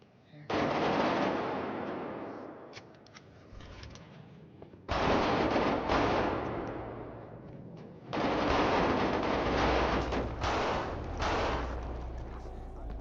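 Rapid bursts of Glock 40 and combat pistol gunfire in the multiplayer game FiveM, three loud sustained volleys separated by brief pauses, the shots blurring into dense machine-gun-like rattles with booming low end.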